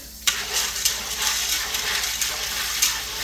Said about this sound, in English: I'm gonna wash my peas.